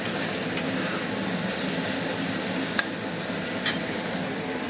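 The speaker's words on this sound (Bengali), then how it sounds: "এখন আমি কড়াইয়ের মধ্যে সবজিগুলো দিয়ে দিয়েছি এক এক করে ভাজার জন্য।" Vegetables frying in a wok for chow mein give a steady, even sizzle that fills the whole stretch, with a few faint clicks from stirring and nobody speaking.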